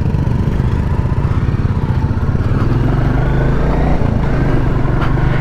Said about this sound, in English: I just love this engine